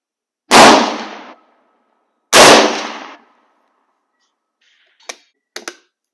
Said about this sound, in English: I'm going to try both rifles with the military ammunition